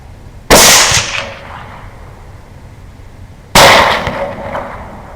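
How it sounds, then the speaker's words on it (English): Two loud, close rifle shots during a night hog hunt, a few seconds apart, each a sharp crack followed by a decaying outdoor echo over faint background noise. "Thanks to Ben's sharp eye and fast shooting, we managed to get all 3 hogs"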